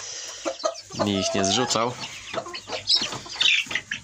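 Adult hens cluck and squawk inside a coop, close by, with a drawn-out call in the middle while a person talks over them.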